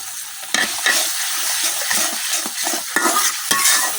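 Ground turmeric and coriander fry in a pan with chopped green chillies and salt, a close, steady sizzle broken by scraping stirs of a utensil against the metal.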